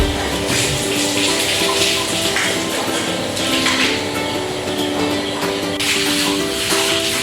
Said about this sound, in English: pour the boiling water in the kettle into the cup.